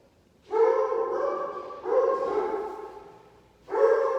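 Dogs bark and howl in long, drawn-out cries, three sustained bursts close by with short pauses between, and no talking.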